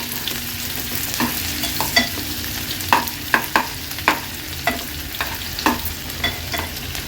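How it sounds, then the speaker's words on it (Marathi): Finely chopped onion and garlic fry in a pan with a steady sizzle. Sharp spatula scrapes and clinks stand out at irregular intervals over the frying. "आता लसूण आणि कांदा शिजवून घ्यायचा आहे"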